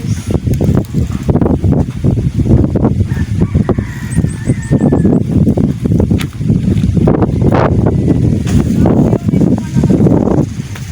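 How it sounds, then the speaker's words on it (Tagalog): Strong gusting wind buffets the microphone in heavy, roaring bursts, with faint bird calls briefly audible in the background. "Lakas na naman ang hangin sa amin guys"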